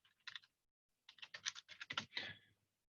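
Typing on a computer keyboard: a short burst of key clicks, a pause, then a longer rapid run of close, crisp keystrokes before stopping.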